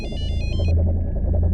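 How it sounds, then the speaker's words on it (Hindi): A mobile phone ringtone plays as a short repeating electronic melody over a steady low rumble of background noise, then cuts off partway through, leaving only the rumble. "तो मेरे मोबाइल से फोन आ रहा है।"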